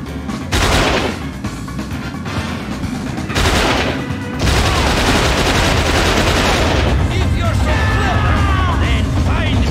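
Heavy gunfire from a weapon in the video game XIII, loud sustained bursts that start and stop a few times before running continuously to the end, with a voice talking over parts of the shooting.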